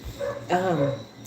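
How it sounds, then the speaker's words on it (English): A dog lets out a single short bark or yelp in the background, brief and moderately loud amid faint room noise. "Sorry for the loud dog barking in the background."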